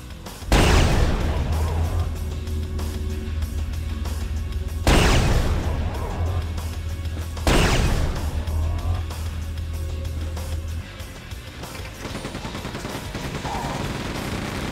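Heavy gunshots ring out in the remastered Quake 2 during sniping of enemy technicians, three big blasts spaced a few seconds apart over a steady low game hum and scattered effects.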